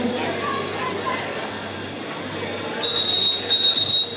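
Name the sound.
referee whistle at a roller derby bout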